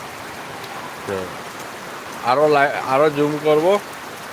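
Heavy morning rain pours steadily outdoors with a constant hissing patter, while someone speaks briefly over it.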